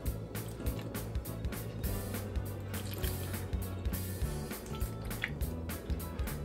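Water is poured around the edge of a baking dish of Alfredo chicken with ranch, a close trickling and splashing with small drips and gurgles, steady for several seconds without talking.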